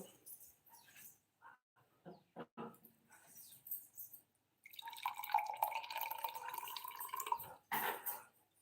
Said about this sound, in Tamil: இப்போ இதை டம்ளரில் ஊற்றிக்கலாம்